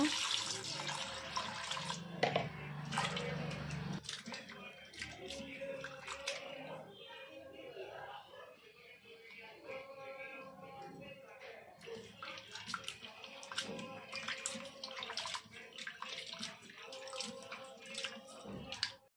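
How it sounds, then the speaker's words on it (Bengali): Cut shrimp being rinsed clean under running tap water in a home kitchen, a steady splashing flow at the start that gives way to quieter trickling and handling sounds, with voices and background sounds throughout. "আমি মাছগুলো ধুয়ে পরিষ্কার করে নিয়েছি"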